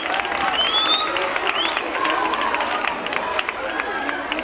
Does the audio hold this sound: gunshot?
no